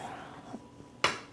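Dishes from entertaining eleven guests clink in a kitchen: a soft knock, then a sharp bright clatter of plates or cutlery near the end, quiet in between.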